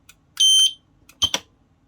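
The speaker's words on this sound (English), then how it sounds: "then the buzzer will go" An industrial light stack buzzer, triggered after an E-stop is hit, sounds close and loud in short shrill electronic bursts: one longer beep followed by a quick double pulse.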